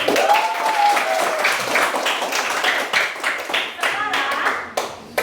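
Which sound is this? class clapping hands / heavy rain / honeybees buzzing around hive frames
class clapping hands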